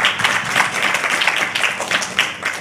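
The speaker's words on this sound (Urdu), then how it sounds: "زوردار تالیاں لگائیں ان تینوں باتوں کے لیے" A church congregation bursts into loud, sustained applause during a Sunday service, dense clapping filling the whole stretch with no talk over it.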